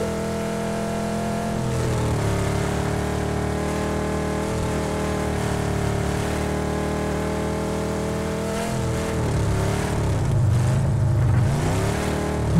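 A car engine in PUBG hums and drones steadily as the vehicle drives, its pitch wavering with shifts in speed and rising briefly near the end, heard alone without talk.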